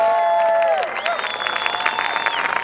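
Crowd applause and cheering for the stunt team on the Titanic film set, a steady wash of clapping with whoops, heard close and continuous as a drawn-out whistle-like tone rises over it.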